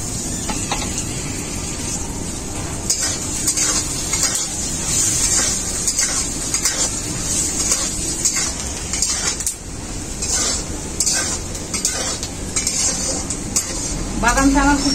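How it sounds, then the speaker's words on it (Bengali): Peanuts fry in hot white oil in a kadai, giving a steady, close sizzle that goes on throughout, with a spatula scraping and clinking against the metal pan. "বাদামগুলো ভেজে নেব।"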